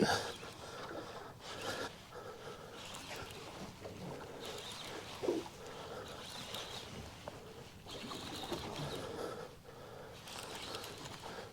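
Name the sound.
old fishing reel winding in line from a boat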